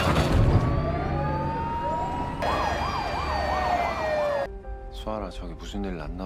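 A loud wailing fire truck siren sweeps up and down, then shifts to a faster yelp pattern, with city traffic rumble beneath and no talking.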